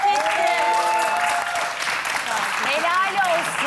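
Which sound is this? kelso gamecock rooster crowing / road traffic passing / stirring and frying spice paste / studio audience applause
studio audience applause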